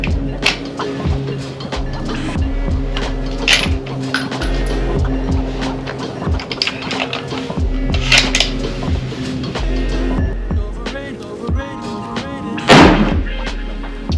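Shots from a Christensen Arms MPR rifle fired at a target: a series of sharp, loud reports spaced irregularly, close by, with faint clinks and background rumble between them.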